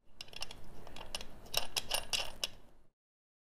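Metal bolts being fitted into a motorcycle engine cover on a café racer, a run of small, bright metallic clinks and ratcheting clicks packed together at close range, with no talking.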